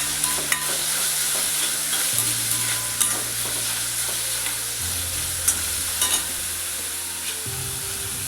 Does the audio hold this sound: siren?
no